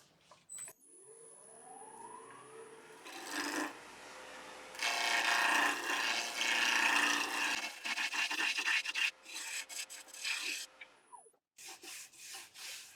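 Wood spinning on a lathe is turned down to a cylinder for a spatula or spurtle handle, the tool cutting with a steady rasping, scraping hiss in long loud stretches, broken by short pauses and a final burst of choppy cuts.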